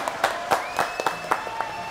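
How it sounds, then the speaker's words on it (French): Sparse applause from a small audience on a French radio show, a handful of separate claps spaced out over two seconds with a faint tone running underneath. "On l'applaudit quand même."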